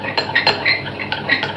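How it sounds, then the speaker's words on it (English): A spoon stirs a warm mixture in a metal pot or bowl to cool it while making a coffee and walnut cake, giving close scraping and repeated light metallic clinks. No one talks. "As we stir it, it's going to cool faster."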